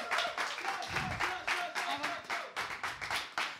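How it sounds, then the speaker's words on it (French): Audience clapping in a steady rhythm at a live stage event with performers, bright regular hand claps running throughout with voices talking over them. "Applaudissez encore."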